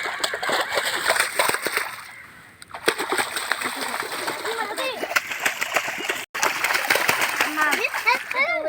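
Water splashes and churns repeatedly as people dive into a pond at a village bathing spot, with bursts of splashing throughout and voices, including children, talking and calling over it.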